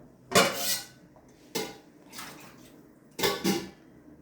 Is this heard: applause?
no